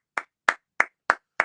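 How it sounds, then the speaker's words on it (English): Audience clapping in a steady rhythm: five sharp, separate hand claps spaced evenly about a third of a second apart, crisp and close against silence. "everybody clap for Oforiata and the Baumianum."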